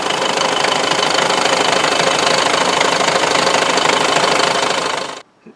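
A YaMZ 534 diesel in a PAZ Vector Next bus idles after its SCV metering valve was replaced, giving a loud, steady knocking clatter that runs evenly for about five seconds and then cuts off abruptly.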